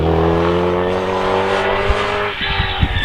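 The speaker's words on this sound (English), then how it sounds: "that engine sounds wonderful as it goes down the straight" A Brabham BT30X race car at a hillclimb roars loud and close, its engine note climbing steadily in pitch as it accelerates down the straight, then dropping with a gear change into rougher, sputtering revs near the end.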